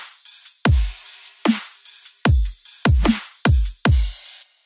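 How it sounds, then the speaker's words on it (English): Dubstep drum pattern played back: punchy kicks with deep low-end tails alternating with snares at a steady, regular rhythm, about eight hits in under five seconds, loud and clean with no talking. "In the last bit, we did the drums, which sound like this."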